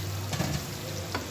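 Coriander and chilies being stirred into a hot pan for rice and chicken, a steady close sizzle with soft scraping strokes and a couple of brief clatters, no talk.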